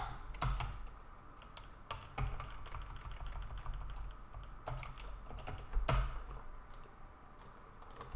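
Code being typed on a computer keyboard: irregular bursts of crisp key clicks, close and fairly quiet, with heavier thumps like the space bar or enter key between runs.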